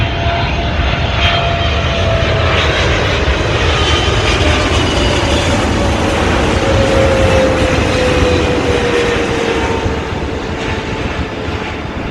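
A heavy British Airways jet lands on runway 16 right at Sydney Airport, its engines making a loud, continuous roar with a slowly falling whine that eases slightly toward the end.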